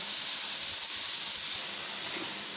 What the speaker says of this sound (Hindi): अब हम टमाटरों को फ्राई कर लेंगे